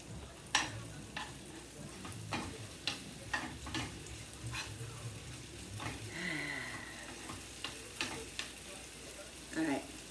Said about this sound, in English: The shrimp is cooking.